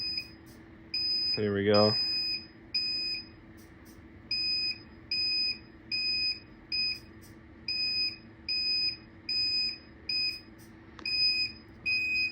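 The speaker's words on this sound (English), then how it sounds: "disable the buzzer feature to get that noise out of my ear" The buzzer of a cameraless thermal radar security system beeps in short, evenly spaced high pulses, about one per second. Someone speaks briefly near the start.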